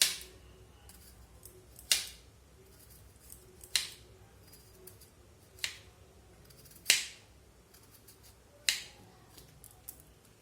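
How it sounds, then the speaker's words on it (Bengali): A knife slices potatoes thinly on a board, making crisp, sharp chopping clicks about every two seconds, six distinct cuts close by against a quiet background, with no speech. "আলুটাকে আমি পাতলা পাতলা করে স্লাইস করে কেটে নেব।"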